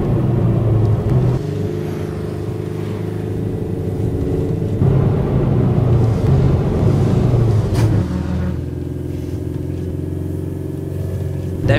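A Renault Clio 4 with a 2.0 engine cruising on a highway, a steady close road rumble and engine drone that shifts tone a couple of times as it speeds up or changes gear.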